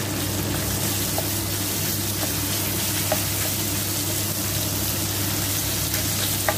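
Minced pork sizzles in a hot pan with chili for a Thai basil stir-fry, giving a loud, steady, even frying hiss with faint scattered pops and no talking.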